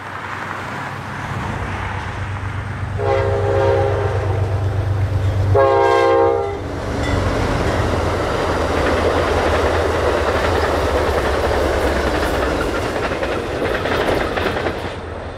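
An Amtrak Borealis passenger train, Train 1333, rolls along the riverbank near Lake City, Minnesota, past the end of a siding. A steady low rumble of wheels runs throughout, with two loud horn blasts near the start.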